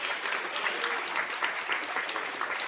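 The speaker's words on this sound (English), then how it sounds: "big round of applause" A crowd at a 9U youth sectional competition applauds a young competitor with steady, dense clapping that holds at an even level throughout, without clear talk over it.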